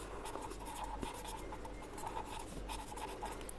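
A pen scratches steadily across paper while an account entry is written in an accountancy lesson. The sound is faint, close and continuous, with no talk.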